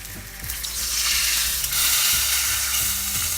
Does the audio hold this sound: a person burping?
no